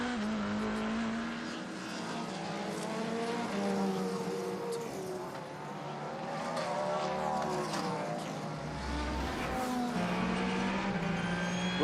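A Ferrari race car at the 6 Hours of Imola is heard on board, its engine a loud continuous whine rising and falling through gear changes, with brief tire and road rumble.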